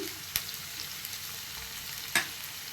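Green chillies and ginger-garlic paste frying in oil for a mutton curry, a steady soft sizzle with a couple of sharp stirring clicks, close and fairly quiet with no talking.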